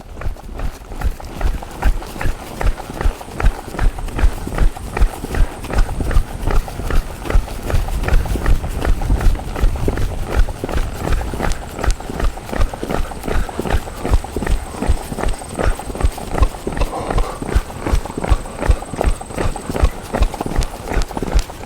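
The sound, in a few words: horse trotting on trail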